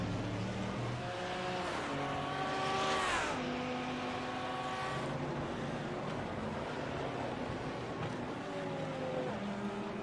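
Old GT1 race car engines on the straights at Long Beach in a sim race, several loud revving tones climbing in pitch through repeated gear shifts, with passing cars overlapping, no talk.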